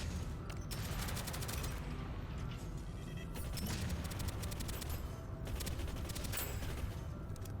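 Rapid bursts of gunfire with thudding grenade blasts in the Deadzone: Rogue shooter game, dense and continuous, fairly quiet overall with sharp repeated crackles.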